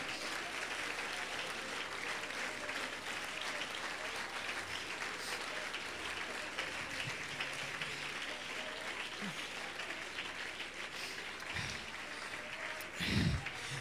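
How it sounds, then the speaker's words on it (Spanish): A church congregation claps at a quiet, even level for several seconds during a sermon, with a few sharper knocks near the end. "Denle ese aplauso al Señor."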